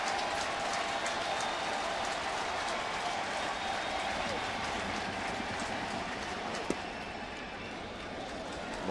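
Baseball stadium crowd at a Cincinnati at St. Louis game, a broad, sustained roar of cheering and applause that stays level for the whole stretch, with a brief sharp crack near the end.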